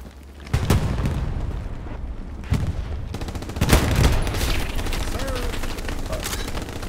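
Rattling rifle and machine-gun fire with booming explosions in the World War II shooter Hell Let Loose, repeated sharp cracks and heavy thuds near and far over a constant battle rumble.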